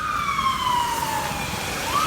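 A police siren wails steadily, its pitch sliding down and then rising again, loud and close over a constant rushing background of heavy rain in the UAE.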